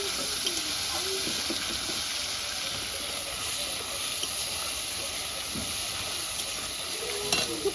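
Spices fried with salt in a pan hiss in a constant, close sizzle, with occasional stirring scrapes and clinks over nearly eight seconds.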